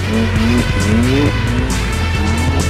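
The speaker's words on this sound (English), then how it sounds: "What I am doing is drifting, there's no denying that." A car drifting on the Michelin test track at Ladoux, its engine revving loudly with rising and falling pitch while tires squeal continuously through the slide, close and sustained throughout.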